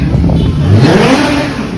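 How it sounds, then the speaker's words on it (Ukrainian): A motorcycle speeds past on a street in Turkey, its loud engine roar swelling close by and then easing off within a moment amid street noise. "Ось зверніть увагу, як їздять мотоцикли, вони просто їздять з божевільною швидкістю."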